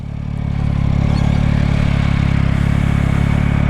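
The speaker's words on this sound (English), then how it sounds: "The pipe doesn't sound too bad for a stock pipe too." A 2025 Yamaha MT-09 SP motorcycle on its stock exhaust: a loud, close engine drone that rises in the first half-second and then settles into a steady, throbbing pulse that continues to the end.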